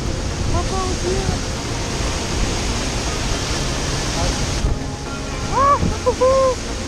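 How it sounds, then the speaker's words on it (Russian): The Düden waterfall in Antalya, Turkey, gives a broad, constant roar of falling water that fills the whole scene, with scattered exclamations and bird-like calls rising over it near the end. "Big Size, самый большой водопад в Анталии."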